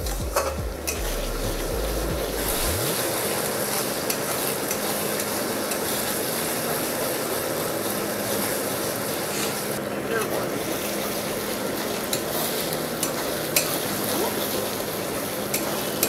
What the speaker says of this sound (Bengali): হালকা করে ভেজে নিই ভালো করে।